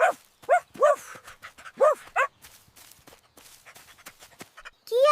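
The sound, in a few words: dog barking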